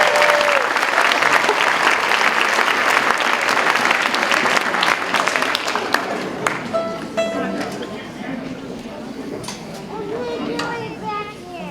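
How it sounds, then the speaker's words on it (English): An audience at an elementary school orchestra concert claps and cheers in a loud, dense burst that gradually thins toward the end, with children's voices and chatter mixed in. "Let's give them a round of applause."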